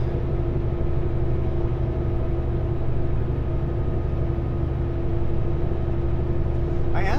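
Heavy haul truck engine pulls hard at full throttle in 11th gear on a British Columbia highway near Yellow Lake, a loud, steady, low droning rumble with a constant tonal hum heard from inside the cab.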